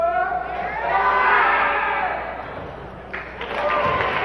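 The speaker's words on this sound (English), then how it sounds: "a really nice crowd on hand for this season opener" Crowd at a high school boys basketball season opener, Paulsboro vs. Woodbury in 2003: a loud swelling roar of cheering voices in a gym, peaking then easing before a fresh burst near the end.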